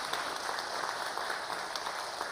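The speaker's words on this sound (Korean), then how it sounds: "영광의 박수 한번 올려드리겠습니다." Church congregation clapping at the close of a special dawn prayer service, a soft, fairly distant wash of applause that stays even throughout, a few sharper claps popping out.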